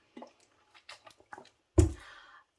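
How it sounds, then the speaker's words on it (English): A few soft mouth and lip sounds lead into a single sip of water with a brief wet swallow, close and quiet, no talking. "Let me take a sip of water before my voice completely goes."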